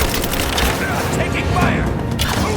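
Gunfire in a Rise of the Tomb Raider firefight, loud and dense, with shots crackling over a continuous battle din while voices call out beneath it.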